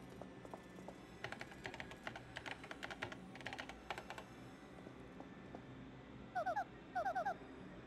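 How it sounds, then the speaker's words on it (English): Game keyboard typing in Paper Mario: The Thousand Year Door, a quick run of soft, bright key clicks in uneven bursts over a faint background, followed by a few chirpy electronic blips near the end. "Use the keyboard to send whatever."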